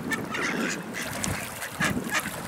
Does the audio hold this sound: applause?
no